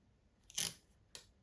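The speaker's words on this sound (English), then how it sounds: "I think I'm going to take a piece of the washi and run it across." Two short, crisp tearing-rasp bursts come from cheap washi tape being pulled off the roll and laid across planner paper. The first is louder and longer, the second brief, both close and isolated against quiet.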